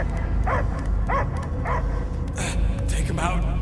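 A dog barks repeatedly in the Guardians of the Galaxy video game, short yelping barks coming in a steady rhythm amid game sound and speaking voices.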